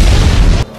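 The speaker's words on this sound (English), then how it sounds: "there's a bomb right there that was gonna go off in a minute" Loud, close bomb explosion: a sudden heavy boom with a broad rushing roar that cuts off sharply after well under a second.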